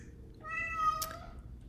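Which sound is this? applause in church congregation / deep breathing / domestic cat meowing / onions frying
domestic cat meowing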